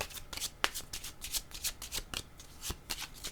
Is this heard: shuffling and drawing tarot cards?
yes